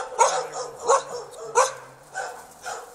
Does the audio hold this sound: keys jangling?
no